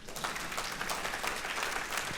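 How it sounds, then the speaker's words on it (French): Congregation applauding during a church sermon, a dense, even wash of many hands clapping at a moderate distance, steady throughout without voices. "Vous avez le droit d'applaudir."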